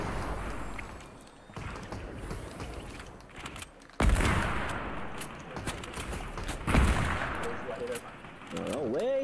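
A SCAR rifle fires rapid bursts in a video game. The loud, crackling volleys come in several clusters, mixed with other game noise and impacts.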